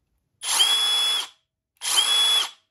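Two short bursts of a Milwaukee M12 Fuel cordless impact driver whirring at high speed, each about a second long, stopping abruptly under its automatic brake with a brief pause between.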